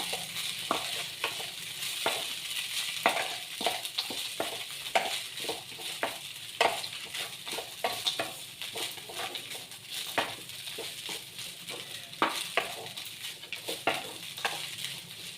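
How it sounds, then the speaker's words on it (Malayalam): Poha upma being stirred in a frying pan, with repeated scraping and tapping strokes of a spoon against the pan over a soft continuous sizzle, close and clear with no talking. "ഇനി നമുക്കിതെല്ലാം കൂടെ ഒന്ന് മിക്സ് ചെയ്തെടുക്കാം."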